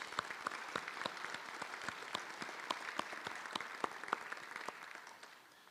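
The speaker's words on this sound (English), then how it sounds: "I'm going to pause for a moment while you give those individuals a round of applause" An audience at the Milton special town meeting gives a round of applause, fairly quiet and distant, a steady patter of many hands with a few sharper claps, tapering off at the end.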